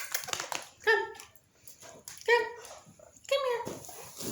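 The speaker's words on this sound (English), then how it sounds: "my dog is shaking me. He's trying to play." A playful pet dog whines and yips in three separate high, rising bursts spaced about a second apart, with a person talking between them.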